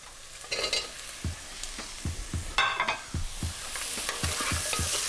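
Garlic, ginger and apple frying in a pot, steady close sizzle underneath with a spoon stirring and scraping in regular, repeated strokes, each a short knock, about a dozen over the stretch.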